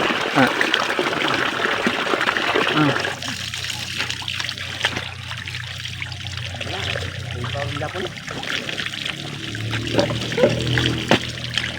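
Water pours and trickles steadily with splashing and gurgling, shifting in pitch as it flows, close by and continuous for several seconds.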